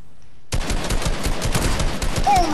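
Sudden loud automatic gunfire erupts in a video game arena battle, a rapid rattling burst that runs close and continuous after a moment of near silence.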